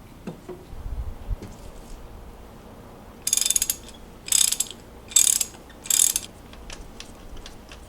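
A ratchet wrench working spark plugs out of a Mitsubishi Lancer Evo 10 engine, four short bursts of rapid clicking close by, each separated by a brief pause, after some faint handling noise.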